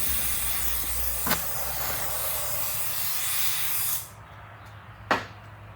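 A steady hiss of spraying liquid on an MCM 250 pump fluid end runs for about four seconds, then cuts off, followed by a couple of sharp clicks.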